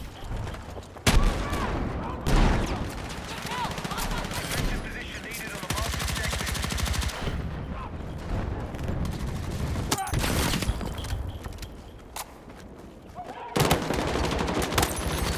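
Battlefield 6 multiplayer gunfire, with loud rapid automatic bursts and sharp single shots firing almost nonstop, overlapping with other weapons in a busy firefight.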